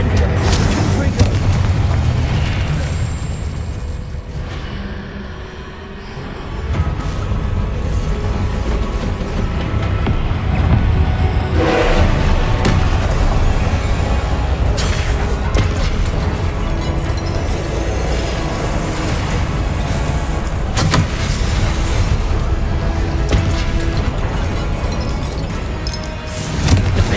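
Spell blasts from the Confringo and Incendio spells going off in the Hogwarts Legacy video game, a dense stretch of booming explosions and crashes layered over game music and effects throughout.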